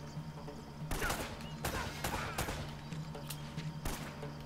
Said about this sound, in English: we're gonna blind fire